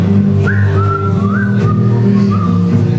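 A person whistles a short melodic tune, bright sliding notes carried over a steady backing of music.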